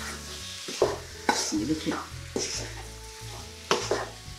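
A kilo of cut chicken for butter chicken is stirred with spices in a hot pan, giving a steady sizzle broken by several scraping spoon strokes close by, with a brief spoken phrase.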